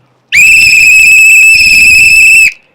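A single sustained shrill whistle blast, very loud and close, holding a steady bright tone for about two seconds before cutting off cleanly.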